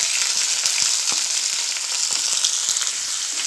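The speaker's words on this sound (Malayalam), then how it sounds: "ചൂടായ എണ്ണയിലേക്ക് കുറച്ച് കടുകൊന്ന് ഇട്ട് കൊടുക്കാം" Mustard seeds, curry leaves, cinnamon, fennel and chopped onion fry in hot oil for a masala dosa filling, a loud bright sizzle close up, dotted with scattered pops and a few stirring knocks, and no voices.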